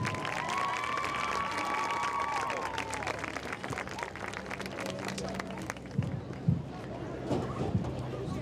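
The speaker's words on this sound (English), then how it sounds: "give a round of applause." A crowd at a high school football game applauds and cheers for the cheerleaders, with scattered clapping and distant cheering under announcer-style talk, some sharper claps standing out near the end.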